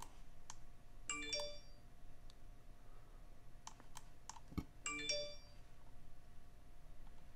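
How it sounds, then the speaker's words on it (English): A phone sounds repeated alert dings during live day trading, each alert triggered by adjusting an order; two clusters of bright chimes ring out at moderate volume over quiet clicking, with no talk. "So all that dinging you're hearing is my phone."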